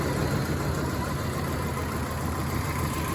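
An 80s series Toyota Land Cruiser engine with a new alternator belt idles steadily up close, a continuous low rumble with a possible miss, no talking.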